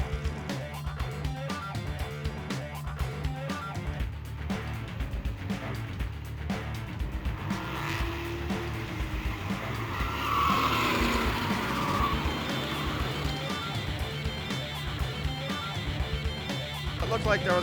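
Race cars skid and slide in a chain-reaction wreck, tires squealing and engines roaring over a dense, sustained rumble, with a commentator talking over the action.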